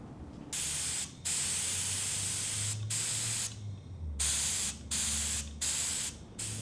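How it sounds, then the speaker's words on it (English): Airbrush spraying paint onto a surfboard during a repair, a steady close hiss in several long bursts separated by short pauses, with no talking. "To better approach the color of the surfboard, we also like to use the airbrushing technique."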